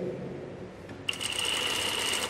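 A sewing machine starts up and runs steadily, stitching shirt fabric in a continuous whirring hum with a faint rapid needle patter, close by and moderately quiet.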